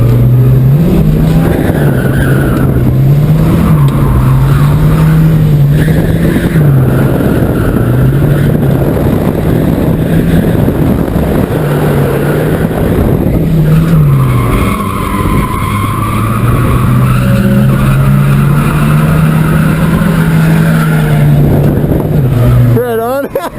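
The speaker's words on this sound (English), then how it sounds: "This thing drifts." An automatic Volvo 740 Turbo sliding sideways, engine droning steadily with tires skidding and scrubbing loudly throughout, passengers talking inside the car.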